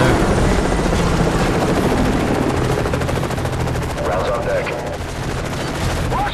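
Helicopters in the Call of Duty: Modern Warfare 3 video game drop off soldiers amid a loud, continuous roar of rotor thump and rattling machine-gun fire, with radio chatter over the din.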